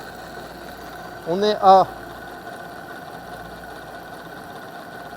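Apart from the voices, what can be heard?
small engine running on test bench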